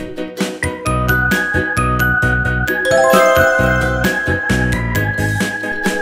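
Bright bell tones jingle and tinkle in a bouncy, repeating melody, loud and continuous in a children's alphabet song without any speech.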